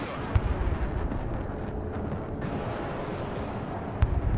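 Airstrike explosions in the Broken Arrow multiplayer war game: a steady, roaring rumble with two sharp blasts, one near the start and one near the end, and no voices.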